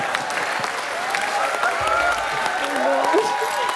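A studio audience on a comedy show gives loud, sustained applause, a thick steady patter of clapping heard close. Voices talk over it.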